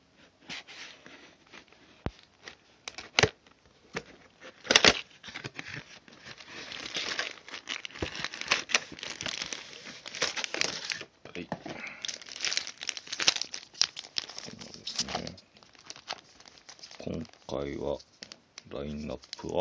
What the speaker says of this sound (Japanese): こちらを早速開封していきましょう